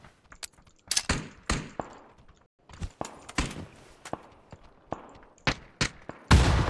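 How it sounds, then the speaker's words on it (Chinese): Gunfire in a video game: irregular sharp shots and bursts, some single and some in quick clusters, with several close loud reports and fainter distant ones, separated by brief quiet gaps. "我听到外面猛开枪啊"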